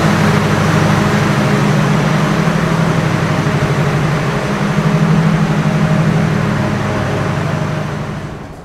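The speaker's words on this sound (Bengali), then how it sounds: "এই পাওয়ার কার থেকে সম্পূর্ণ ট্রেনে পাওয়ার জেনারেট করা হয়।" The power car generator of the Chitra Express train runs at night, a loud, steady mechanical drone with a constant low hum and broad noise, unbroken throughout before fading slightly at the end.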